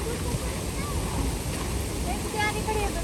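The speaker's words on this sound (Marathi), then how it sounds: "ओढ्याला पाणी आले भरपूर" Swollen village stream rushing steadily with broadband water noise and wind buffeting the microphone, continuous and close, with faint voices in the background.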